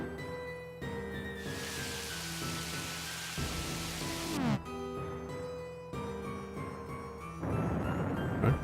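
Rain conjured by the Douse spell in Golden Sun: Dark Dawn, a steady hiss of falling water over game music, swelling and cutting off in bursts, with no talk.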